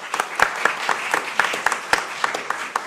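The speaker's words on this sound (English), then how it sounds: "That's really nice that you clapped for me" An audience at a county commissioners' meeting claps for a departing speaker, a modest indoor round of applause with a few distinct sharp claps standing out over the steady patter.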